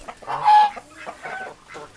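Chickens in a barnyard cluck in short, close bursts, several birds calling in an irregular rhythm with brief pauses between, heard without talking.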